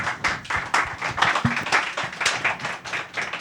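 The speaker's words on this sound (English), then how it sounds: "Please join me in giving a big round of applause to Mark O'Neill." Audience clapping after a club lunch book talk on Irish history, a steady broadband patter of many hands filling the room for several seconds without voices.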